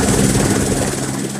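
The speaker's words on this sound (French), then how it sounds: "Quelle expérience incroyable que ce trajet en hélicoptère!" A helicopter flying over Saint Lucia gives a steady, loud, close rotor and engine drone that holds unbroken throughout, with no talk.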